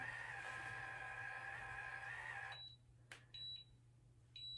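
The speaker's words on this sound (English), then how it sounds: "The timer is beeping for us again." A cordless curling iron's timer gives a few short, high electronic beeps, spaced irregularly after a stretch of steady broadband noise, heard close and fairly quiet.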